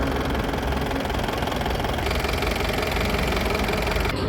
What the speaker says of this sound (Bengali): গাড়িটির সাউন্ড আপনাদেরকে শোনালাম এবং এটাকে চালিয়ে দেখানোর চেষ্টা করছি পাশাপাশি ইঞ্জিন সাউন্ড শুনুন